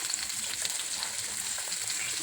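Halwa (black pomfret) fish pieces fry in oil on a flat tawa, giving a steady, dense crackling sizzle that fills the clip at close range without pause.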